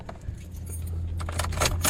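Car keys jangle in short metallic bursts as the ignition is switched off and the key pulled out, with a low steady hum from the car underneath.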